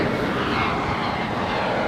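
A British Airways airliner turns at Los Angeles International Airport, its engines a steady, broad roar heard at a distance without any break.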